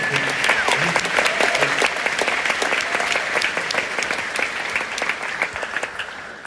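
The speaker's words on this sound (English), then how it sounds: "applause" A theater audience applauds for Joe Papp at a Chorus Line anniversary event, a full round of many hands clapping with sharp individual claps, loud at first and gradually thinning toward the end.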